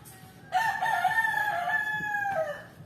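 A rooster lets out one long, loud crow close by, lasting about two seconds, over a quiet background of faint clucking from chickens.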